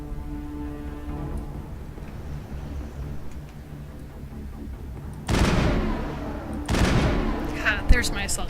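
Assault gun fire in the video game Mass Effect, two loud bursts of rapid shots breaking in over a quieter stretch of game ambience, with a sharp crack near the end.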